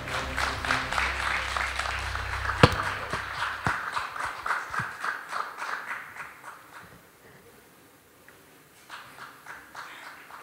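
An audience at a technology conference claps, a dense patter of many hands close by that swells briefly, holds for several seconds, then thins out and fades to a few scattered claps.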